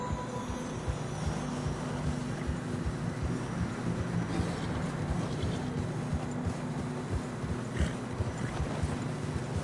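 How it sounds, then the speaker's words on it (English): Steady muffled hoofbeats of horses plodding through fresh snow in Red Dead Redemption 2, in an irregular rhythm beneath a constant low wind-like rush, with no voices. "Horses are struggling."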